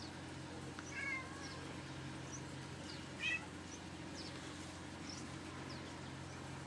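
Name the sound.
cat on the porch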